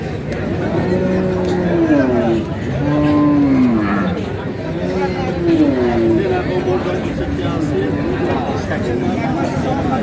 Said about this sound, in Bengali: গাভী বাছুর দেখছেন